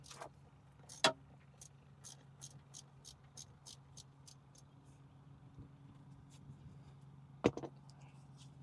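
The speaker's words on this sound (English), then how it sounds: "loosen this 10mm here" A wrench ratchets in a quick, even run of faint clicks while loosening a 10mm nut on the battery of a 2015 Ford Transit 250, framed by two sharper metallic clanks in a quiet setting.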